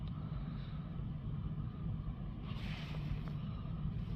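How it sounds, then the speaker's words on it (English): A Renault Trafic van engine idles with a low, steady, even rumble throughout, with a faint hiss above it and no voices. "Then we'll run the engine for a minute and see what fault codes come back."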